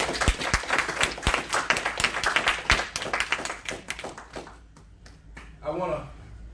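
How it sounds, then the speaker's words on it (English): A church congregation claps hands in praise, sharp rhythmic claps ringing out close and loud before thinning and trailing off, with voices over them near the end. "give the Lord a hand clap of praise this morning"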